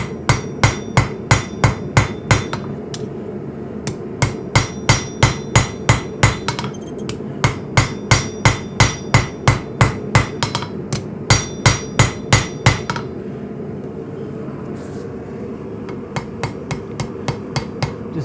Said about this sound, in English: Finish off the tang shaping on the anvil.